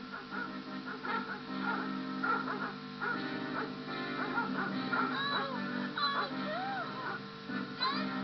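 Several dogs barking and yipping in a busy mix with background music, the barks overlapping at irregular intervals at moderate distance.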